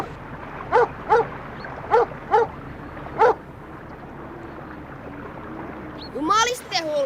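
A dog gives five sharp, evenly spaced barks at moderate distance, then a short run of high whimpers and yips. Faint background noise sits underneath.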